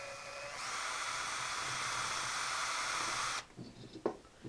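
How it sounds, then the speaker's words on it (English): A power drill spins at high pitch while cleaning carbon deposits off an engine cylinder head, a steady whining buzz lasting about three seconds before cutting off abruptly, followed by faint clicks and handling noises. "now all you want to do is go slowly with your drill, and clean all that carbon off"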